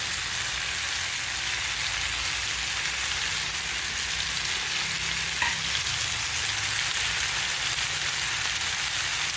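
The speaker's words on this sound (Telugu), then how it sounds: "ఇలా కొద్దిగా ముక్కలు వేగనిచ్చి" Vegetable pieces frying in oil in a pan for a tomato pickle, producing a steady, dense sizzle that hisses continuously at close range with a faint clink partway through.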